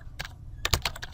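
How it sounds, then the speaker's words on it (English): Crisp clicks from a computer keyboard come up close in a short, uneven burst of about eight keystrokes, the last several landing in quick succession. "just type in the Google badminton court"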